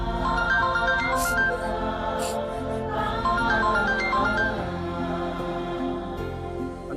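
A phone ringtone plays in an indoor domestic scene, a repeating melodic tone that keeps sounding throughout over a steady background, with no voices.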